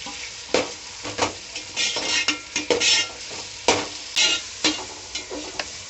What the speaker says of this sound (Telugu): టమోటాలు వేసేసుకున్నాం. వేసుకొని బాగా కలుపుకోవాలండి.